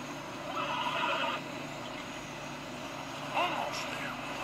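A horse whinnies at moderate distance in the video game Red Dead Redemption 2 over a steady low rumble of background noise, followed by a second shorter neigh.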